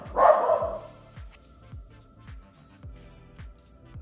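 Dog barking indoors, picked up by an iPhone's sound recognition: a single loud close bark followed by a short series of quieter, evenly spaced barks and yips.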